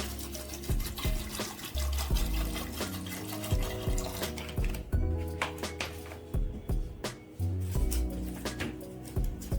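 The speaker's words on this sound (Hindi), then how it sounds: "आधा लीटर पानी ऐड करूँगी।" Half a litre of water is poured into a pressure cooker holding chickpeas for Punjabi chhole, a continuous splashing, gurgling pour close by with bubbly clinks of liquid against metal throughout.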